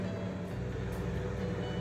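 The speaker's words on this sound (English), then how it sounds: "Now it's time to blend." A blender whirs through oranges, carrots and a glass of water to make juice, giving a steady, continuous motor drone with an even mechanical hum and no talking.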